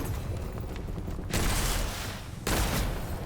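Enemy gunfire in the video game Witchfire, heavy bursts of shots crashing in twice over a steady rumbling battle din, loud and close.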